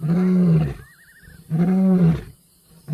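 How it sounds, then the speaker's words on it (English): A lion roars twice in close succession, each a loud, deep, drawn-out call with short quiet gaps between, followed by the start of a third; near and dominant. "His roar is a powerful weapon."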